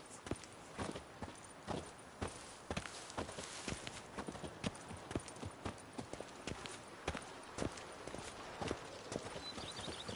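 Horse hooves clip-clop in The Witcher 3 at a steady walking rhythm, crisp and close, with faint ambient sound between the hoofbeats.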